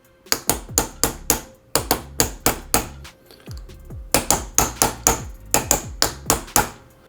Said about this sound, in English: get one started, get the other one started, then we'll just hammer them on in.